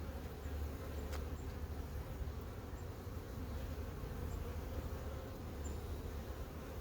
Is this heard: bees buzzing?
yes